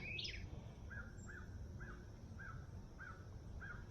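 A bird calls near a garden bird bath, giving about six short, evenly spaced cawing notes over a steady low outdoor rumble, faint and somewhat distant, with a brief higher chirp at the start.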